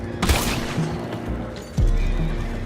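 Horses whinny loudly in a Red Dead Redemption 2 game scene, a sharp neigh near the start and another near the end, with hoof clatter and game sound around them.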